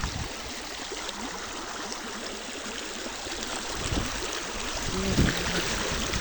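A normally dry river near Santrampur is running with water. It makes a continuous rushing flow, close and fairly even, with slight swells and a faint tonal sound near the end.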